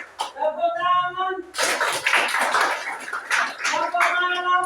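A group claps their hands together in a Scout-style clapping routine during a campus preaching session, a dense burst of close, loud claps running for about three seconds between stretches of a voice speaking.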